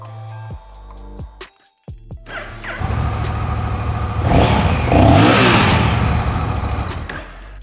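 2021 Honda Rebel 1100 motorcycle engine cranking with a few clunks, then firing up and revving loudly with a deep rising roar before settling, close by, no talking.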